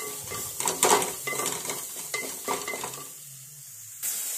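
Grated coconut goes into a hot pan of curry paste and is stirred with a spoon, making scraping, clattering strokes over a light sizzle that fades near the end.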